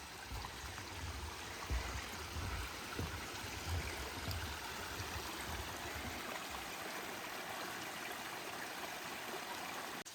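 Phantom Creek flowing among maples and vine maples at Dosewallips State Park: a steady, soft rush of running water, faint and continuous, with a low rumble underneath for the first several seconds.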